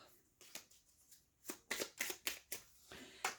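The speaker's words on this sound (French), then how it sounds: "Je vais prendre 3 cartes. Donc, avec l'oracle enchanteur." A deck of oracle cards is handled and shuffled up close in a quiet room. Soft slides give way to a run of crisp, riffling card snaps.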